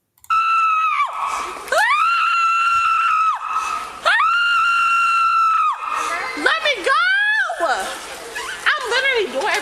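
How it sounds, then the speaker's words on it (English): A person screaming during an arrest at an airport: long, loud, piercing shrieks repeated several times, some sustained and others breaking into shorter wavering wails, close to the microphone. "Protect your ears, because once they do that first scream, we could last the whole video."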